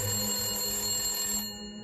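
A telephone bell rings with a bright, sustained metallic trill that fills the clip at moderate volume and then cuts off abruptly near the end.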